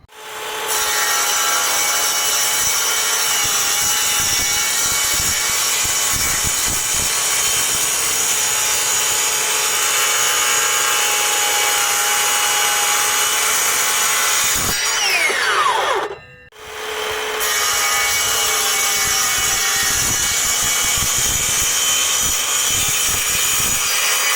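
Parkside Performance PPMSA 20-Li A1 cordless metal circular saw cutting through a 5mm aluminum profile, a loud continuous high whine with grinding rasp that briefly drops out as the blade pauses, then resumes close and steady.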